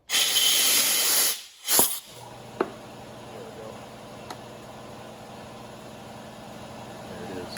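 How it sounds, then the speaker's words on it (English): Compressed air hisses loudly at a 1995 Ford F150 brake caliper for about a second and a half, then stops with a short puff, leaving a quiet hum and a few faint clicks. "And take some compressed air"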